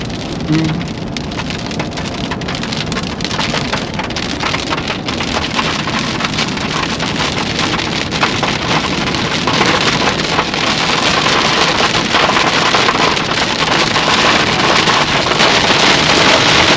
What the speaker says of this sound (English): Oh, it's hail.